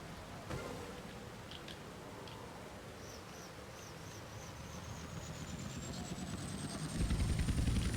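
Helicopter in the Grand Theft Auto Vice City video game, a steady rotor drone that swells louder toward the end while a high whine climbs in pitch; no speech.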